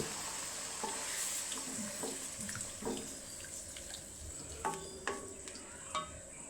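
Chili-garlic pickle mixture with lemon water poured in, simmering in a pan with a steady soft sizzle and scattered stirring clicks and taps, moderately close with no voices.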